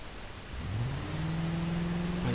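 Sheriff off-road vehicle in BeamNG.drive, a tall high-riding truck, driving with a steady mid-pitched engine hum that rises as it accelerates, continuous and fairly loud over low road rumble.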